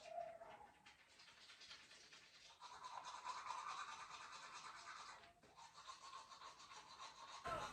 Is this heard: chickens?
no